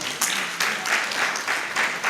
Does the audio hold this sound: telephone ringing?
no